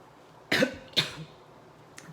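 Two sharp coughs in quick succession, close and fairly loud, followed by a faint third cough after a pause against a quiet background.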